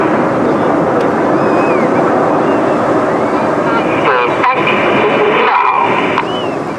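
Bright red display aircraft flying upside down at 3,500 feet over Torbay Airshow on the coast, heard as a steady, broad distant roar thick with wind buffeting and surf-like noise, with faint public-address voices underneath.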